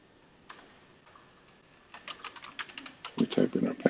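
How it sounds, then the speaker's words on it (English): Keys tapped on a Mac computer keyboard while entering a password, a quick run of light clicks starting sparse and growing denser and louder, with a few stronger thumps near the end, close and alone. "We type in our password."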